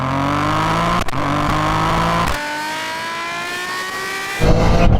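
A tuned 600+ bhp Toyota GR Yaris pulls hard in second gear during a rolling drag race, its engine note climbing steadily and loudly, then dropping briefly at a gear change before surging again.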